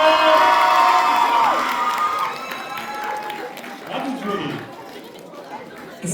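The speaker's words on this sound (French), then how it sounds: "Allez, on les applaudit bien fort, ça les encourage" Audience at the Bakanim' 2026 cosplay contest and prize ceremony chattering with scattered cheers and clapping, loudest at the start and fading, with a voice heard briefly over the crowd.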